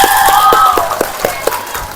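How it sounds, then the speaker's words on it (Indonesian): An audience at a junior high school claps in a loud burst of applause with crowd noise, the claps thinning into a few distinct, evenly spaced hand claps. "Lagi kasih tepuk tangan."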